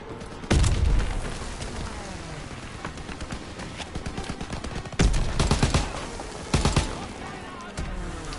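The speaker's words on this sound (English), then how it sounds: "BAR actually stands for Browning Automatic Rifle." Browning Automatic Rifle fire in the video game Call of Duty WWII: loud sharp shot bursts punctuate an ongoing rattle of gunfire, with heavier blasts recurring every second or two across the battle din.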